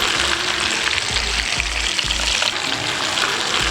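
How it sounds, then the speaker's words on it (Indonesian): Risoles frying in oil in a small pan, with a constant loud sizzle and crackle, plus a few low thuds partway through. "sekarang tinggal saatnya kita goreng"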